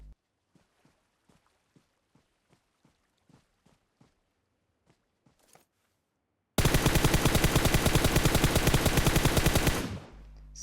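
PUBG Mobile gunfire opens with a dozen soft, evenly spaced single shots or footsteps. A sudden loud, rapid automatic burst follows and runs for about four seconds before cutting off.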